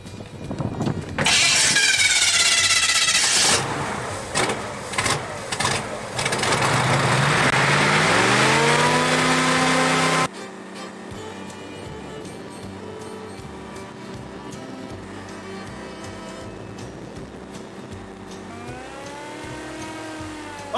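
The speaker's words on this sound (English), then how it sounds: "we're out in the airboat" An airboat engine starts and roars loudly nearby, revving up and down, then settles into a steady, lower drone while running, with no voices.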